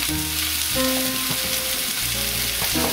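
A winter stir fry slow cooking in a pan, a close continuous sizzle with stirring scrapes and faint tonal squeaks from utensil on the pan, no talking.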